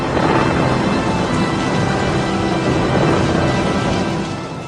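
Thunder and heavy rain rumble and hiss continuously in the opening of a concept album piece inspired by Poe, a dense, loud wash that fades slightly at the end.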